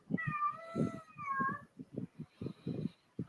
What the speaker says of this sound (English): do I hear a cat?